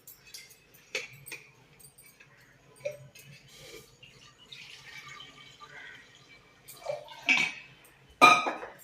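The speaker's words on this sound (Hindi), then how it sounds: "अब उसमें थोड़ा सा हम पानी डालेंगे।" Water is poured into a pressure cooker sitting on a lit stove while cooking moong dal. Soft splashing and trickling come with scattered metallic clinks and bumps, and a few louder splashes close in near the end, with no talk.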